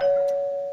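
A single electronic doorbell chime, a clear, loud sustained tone that rings alone and slowly fades over less than a second.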